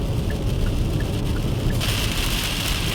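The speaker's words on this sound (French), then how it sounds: "je peux vous dire qu'il pleut à torrent" Heavy rain pours down steadily as a dense, continuous hiss that grows louder and brighter toward the end, with no one speaking.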